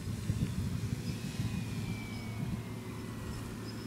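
A Sbach 342 aerobatic plane's engine drones steadily and continuously. A faint whine shifts in pitch above rough, wind-buffeted rumble throughout.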